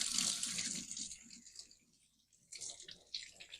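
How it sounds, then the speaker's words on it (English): A kitchen tap runs as hands are rinsed while making homemade pop tarts: a short close burst of splashing water, a quiet pause, then another brief gush. "I'm going to rinse my hands."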